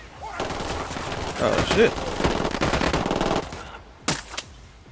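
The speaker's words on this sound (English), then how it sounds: "Opening fire." Rapid automatic gunfire bursts rattle through a Ghost Recon Wildlands firefight, loud and close, with a few sharp single shots near the end and a player's voice briefly heard.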